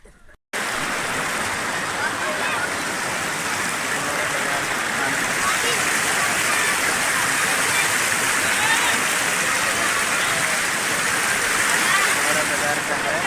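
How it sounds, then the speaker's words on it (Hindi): Floodwater rushes fast through a village, producing a loud, continuous roaring wash like a torrent that carries on without a break after a brief quiet start. "बहुत तेजी से पानी पड़ रहा है।"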